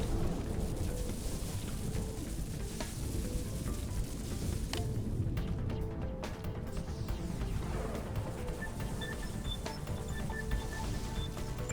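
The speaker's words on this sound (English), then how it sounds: "we have this lightning storm happening" Steady rain with rumbling thunder from a lightning storm in Xenoblade Chronicles X: Definitive Edition, a constant wash of downpour with low rolling booms, fairly loud and without talk.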